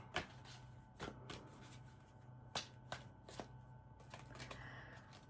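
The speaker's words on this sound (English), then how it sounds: "Let me just shuffle that up." Soft, close shuffling of an Archangel Metatron oracle card deck: light taps and papery slides in an uneven rhythm, quiet against a low background hum.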